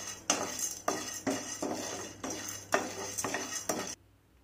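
Chana dal being dry-roasted and stirred in a pan, a spoon scraping in repeated strokes about every half second, close and moderately loud, with a light rattle of lentils and faint sizzle, ending abruptly.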